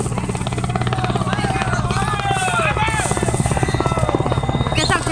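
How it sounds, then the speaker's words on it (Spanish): Helicopters closing in over rural coca-growing country, a steady loud rotor thrum and buzz filling the whole stretch, with people's voices audible beneath it. "El sonido de los helicópteros los alerta."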